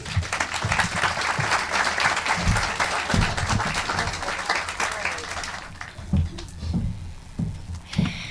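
Audience applause greets Deputy County Executive Lisa Chimera at a FeedMore WNY groundbreaking ceremony, a dense steady clapping for about six seconds that thins into scattered claps and fades.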